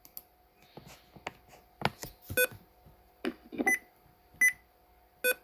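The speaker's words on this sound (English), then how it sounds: "I keep getting these stupid beeps" Computer sticky keys alert tones, several short electronic beeps spread unevenly among soft keyboard clicks and taps, fairly close and moderate in level.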